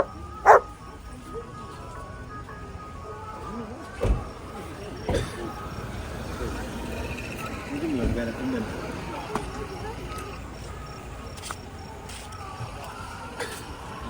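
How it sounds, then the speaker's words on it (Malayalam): A dog barks now and then somewhere along a family road trip near Mysore, sharp yips and barks scattered over several seconds beneath people chatting and background vehicle noise. "അവിടെ നായുണ്ട്."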